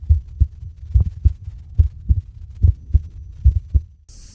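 Recorded human heartbeats collected from around the world and played back in an art installation: steady low thumping double beats, deep and booming, with a faint hum underneath and no talk.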